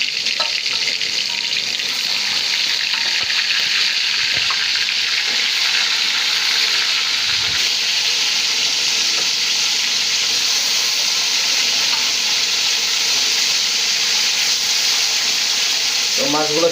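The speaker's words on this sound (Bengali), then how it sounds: "তো মাছ ভাজার জন্য কড়াইয়ের মধ্যে তেল দিয়ে দিলাম" Shingi fish frying in hot oil in a wok, a steady, loud crackling sizzle that holds throughout with faint stirring scrapes.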